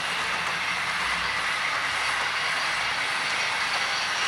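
Newly re-motored Jouef model train, an SNCF Z 5100 set, runs with a steady unbroken whirring hiss, close and even throughout with no talk.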